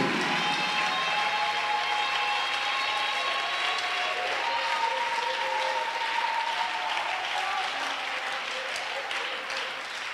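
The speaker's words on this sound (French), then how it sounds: "Oh, give the Lord a big clap of praise." A church congregation claps in praise, with dense, steady applause that holds loud and full for the whole ten seconds.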